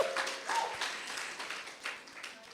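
A small audience at a women's business seminar gives a light, scattered round of applause, individual claps audible and fading, fairly quiet and brief.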